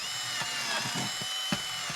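Power drill boring holes into a bucket for a homemade parts-draining basket, a steady whirring drone with a few short bursts and catches as the bit works through.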